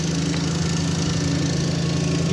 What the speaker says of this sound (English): You're gonna get run over by the lawn mower.